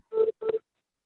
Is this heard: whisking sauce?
no